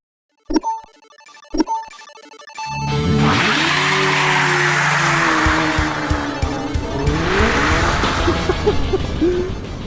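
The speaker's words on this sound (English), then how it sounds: "I'm in drift mode, and it definitely does that." Hyundai RN24, a 650-horsepower electric Gymkhana rally car, in drift mode: after two sharp knocks, a long, loud tire squeal and skid rise and hold for about seven seconds under a whining electric drive, with no talking.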